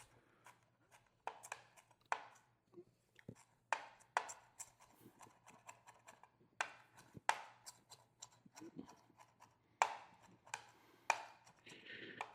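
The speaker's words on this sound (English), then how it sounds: "so here's my cilantro. I'm just going to chop that up very coarsely" A knife chops cilantro coarsely on a board, a quiet series of sharp, irregular taps and thuds spread across the stretch, close and alone.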